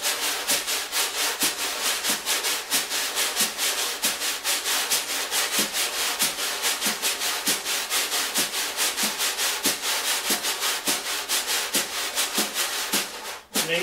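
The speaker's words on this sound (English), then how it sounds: "Because this is scraping, you don't notice it so much." Wire brushes sweep and scrape across a drum head in a steady bossa nova pattern, a continuous close swishing broken by regular soft accents, with no talk.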